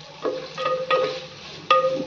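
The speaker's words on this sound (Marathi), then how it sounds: "आता त्यात हा कांदा भाजून घेऊयात।" Onion fries in oil in a clay pot over a low gas flame, giving a soft sizzle broken by a few sharp stirring scrapes and clinks across about two seconds.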